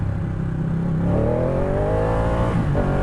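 A Ducati Panigale 899 motorcycle revving for a wheelie, its engine rising steadily in pitch and holding high, loud and close, with no talk over it.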